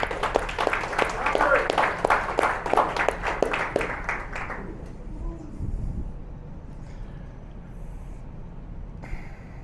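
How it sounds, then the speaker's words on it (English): A crowd at an expat club meeting gives a round of applause, a burst of clapping for about four seconds that stops abruptly, followed by quiet room tone and a low murmur. "I think it's worth giving him a round of applause."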